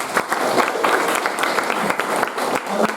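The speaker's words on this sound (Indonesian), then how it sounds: "Oke, tepuk tangan dulu." A short burst of steady clapping from a class, dense and continuous for a few seconds, fairly loud and close.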